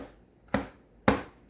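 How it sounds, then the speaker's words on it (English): Food is chopped with a cleaver in two sharp, separate strikes against a cutting board, close and fairly quiet, with no talking. "lean the cleaver against your knuckle away from your fingers and press down and forward"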